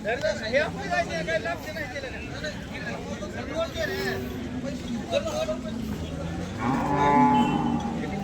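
A cow at a busy cattle market in Sangola, with lowing moos rising over crowd babble and voices; a louder, sustained moo swells near the end.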